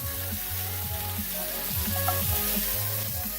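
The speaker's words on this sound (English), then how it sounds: "we're going to start adding our butter" Butter sizzling in a hot pan beside a searing sirloin steak, a steady loud crackle and hiss that runs continuously with a low rhythmic hum underneath and no voices.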